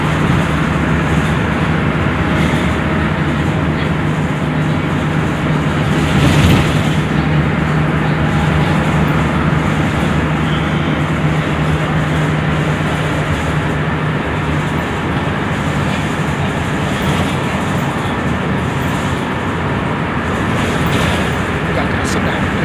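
A Jabodebek LRT light rail train rumbles past near Kampung Rambutan station in Jakarta with a loud, continuous roar and rolling mechanical noise, traffic hum blending in underneath.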